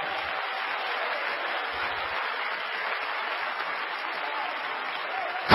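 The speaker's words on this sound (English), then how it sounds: "would you clap your hands and praise the Lord?" A church congregation claps together during a sermon, a soft, even wash of hand claps heard from a distance, steady throughout with a louder burst at the very end.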